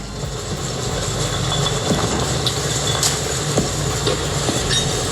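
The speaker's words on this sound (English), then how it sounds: "it's actually an earthquake with debris" A continuous deep rumble with rattling, clattering debris and scattered knocks, dense and close, like a building shaking during a quake.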